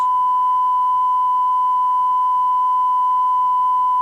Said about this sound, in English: As the frequency increases to 1 kilohertz, you will hear a sound like this.